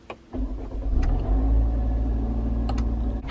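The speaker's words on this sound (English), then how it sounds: "I'm gonna show you guys what happens when you actually turn on the car" A Range Rover engine cranks and catches, settling into a steady loud low idle rumble with small clicks, no talking.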